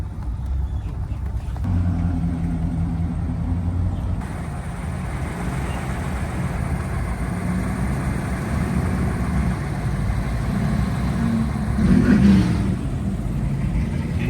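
A Cadillac's engine idles and rumbles steadily as it is moved onto the show field at the Lake Mirror Classic car show in Florida, with a brief rev near the end and no talk over it.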